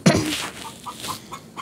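A hen in the grass, one that has been laying eggs, gives a sharp loud cluck followed by a string of softer, short, evenly spaced clucks close by, with no talk over them.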